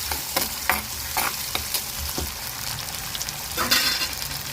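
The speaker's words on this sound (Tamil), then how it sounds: "இது நல்லா கோல்டன் ப்ரௌன் கலர் வர வரைக்கும் வதக்கிக்கலாம்." Shallots frying in a pan for chicken pepper fry, a steady close sizzle with several sharp scraping stirs of a spatula against the pan and no talk.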